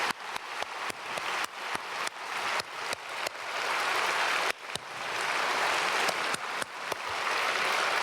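A church congregation at a Wednesday prayer service claps in sharp, rhythmic unison beats at first, then swells into continuous, bright applause that fills the hall before a few final distinct claps.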